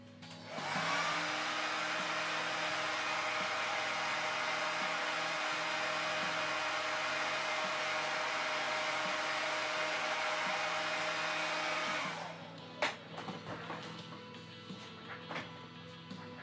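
A blow dryer drying paint on a Harley Quinn painting runs as a loud, steady whooshing roar for about twelve seconds, then switches off, leaving faint handling clatter.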